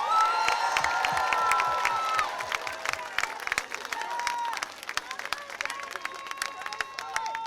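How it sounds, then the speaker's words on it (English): A large crowd at a New Edition Day gathering breaks into sustained applause and cheering, dense clapping with shouts filling the space; the roar eases slightly midway before continuing steadily. "we should all give God a big round of applause"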